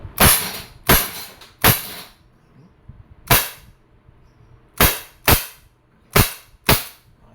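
An Umarex SA10 Dual Ammo CO2 air pistol fires eight sharp, loud, close cracks at uneven intervals, with a short pause in the middle and each report ringing off quickly.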